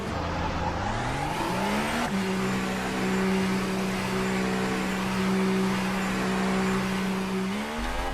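F1 car leaving the pit lane in the F1 2018 racing game, its engine rising through several upshifts, then holding a steady high whine before revving again near the end, loud and continuous.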